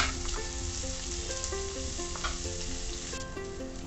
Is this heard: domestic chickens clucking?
no